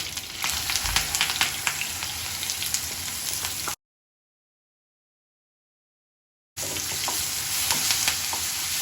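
Ground Andhra-style onion chutney tipped into a hot pan, a bright hissing sizzle with crackles, cut off by a stretch of total silence before the sizzle resumes at the same level.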